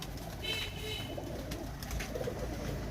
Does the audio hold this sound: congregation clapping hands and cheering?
no